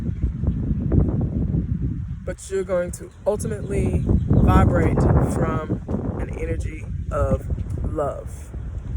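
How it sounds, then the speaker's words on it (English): Wind blowing outdoors in West Texas, buffeting the microphone with a constant low rumble and gusty roar beneath a person speaking. "I'm in West Texas, and it's always windy in West Texas."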